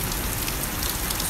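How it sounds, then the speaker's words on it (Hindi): Steady rainfall during the rainy season, a dense, even patter of drops on surfaces filling the short stretch with constant hiss and no pauses. "देखो एक बार फिर बारिश का मौसम आया"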